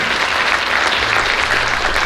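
Teachers at a Teachers of the Year event applaud, a dense, steady wash of many hands clapping together, loud and continuous throughout with no pauses.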